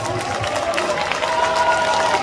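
Audience applauding for a singer at a trot music show during the Geumsan World Ginseng Festival, a steady dense patter of clapping with crowd noise throughout.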